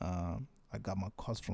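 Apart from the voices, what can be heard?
No everyday noises stand out.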